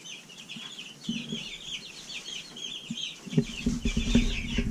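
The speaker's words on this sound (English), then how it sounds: "Travis is getting Americana chicks again for his chicken coop, so they can have some eggs." Chickens cluck and chatter in a backyard coop, a lively flock that is quieter at first and then grows busier and louder, with several birds calling at once close by.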